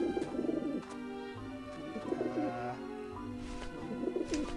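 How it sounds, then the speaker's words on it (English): Pigeons coo repeatedly in the video game Grim Fandango, soft rolling calls in several bursts over a background of sustained game music. "So we gotta scare the pigeons off"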